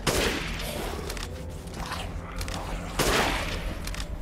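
Shotgun or rifle blasts in Resident Evil Village: two broadband bursts, one at the start and one about three seconds later, with a mechanical clatter in between, like reloading or pumping, over a steady game soundscape.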